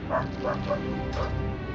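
A dog barks and yips in a quick run of four or five sharp calls over a constant low game-fight din during a World of Warcraft raid boss kill, with faint voices nearby.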